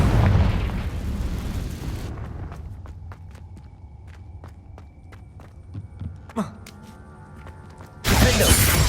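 Confringo blasting spell explosions in Hogwarts Legacy: a loud, rumbling blast opens, a quieter stretch of footsteps and small impacts follows, then another loud burst cuts in at the end.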